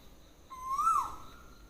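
An Asian koel calls once in the early morning near Ratnagiri: a single clear, rising whistled note, fairly near, over a quiet background.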